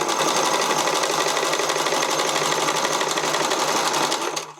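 Sewing machine running a wide zigzag stitch over elastic on a skating dress: a loud, close, continuous whir that stops abruptly at the end, with no voice.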